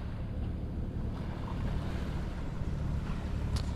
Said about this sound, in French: Il y a du vent qui me permet d'avancer à 2 nœuds.